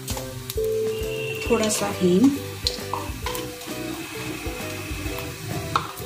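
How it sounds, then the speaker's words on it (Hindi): Cumin and mustard seeds tempering in hot oil for stuffed bell peppers give a steady sizzle and stirring, with someone speaking briefly over it. "अब इसमें हम तड़का लगाएं 1/2 चम्मच जीरा"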